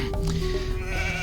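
Sheep bleating in the real-time strategy game Age of Empires 2, a single wavering bleat held close and clear over a steady game backdrop, with no talk.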